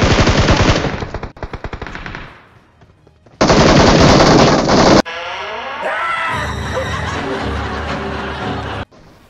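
Bursts of automatic gunfire spray in the mobile shooter BGMI, loud rapid rattling volleys separated by a short pause, followed by other game sound effects and tones near the end.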